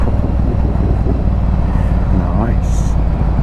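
A Yamaha Virago 1100 motorcycle engine rumbles steadily and loudly on a fast ride through Derbyshire, England, with a constant low drone that stays present throughout, overlaid by wind rush and a brief higher whine near the end.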